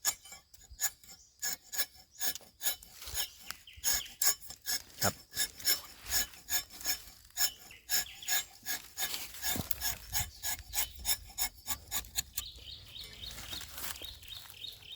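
An old rubber tapping knife scrapes repeatedly, giving a steady series of short, dry rasping strokes, close and fairly quiet, with no talking.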